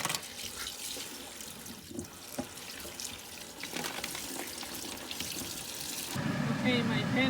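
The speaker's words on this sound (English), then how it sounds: "Rinse with water." Tap water runs steadily over ground beef being rinsed in a kitchen sink, a continuous splashing wash that grows louder and fuller near the end.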